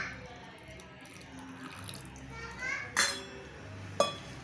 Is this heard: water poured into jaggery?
yes